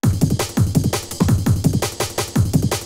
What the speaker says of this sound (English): you can hear there's a lot of kick and snare in there